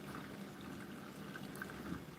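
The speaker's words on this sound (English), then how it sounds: "But at least it keeps on adding water," Water pours steadily into the drum of a Hoover washing machine, giving a quiet, even trickling and gurgling wash with no voices.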